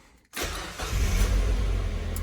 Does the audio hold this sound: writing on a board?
no